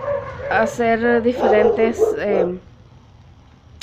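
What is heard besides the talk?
dogs barking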